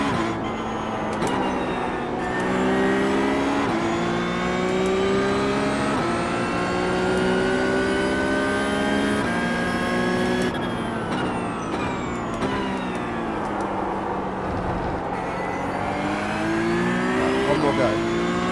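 Porsche GT3 Cup race car engine in iRacing at The Bend, a loud sustained engine note climbing through the revs with repeated gear shifts and lifts, heard continuously from the car.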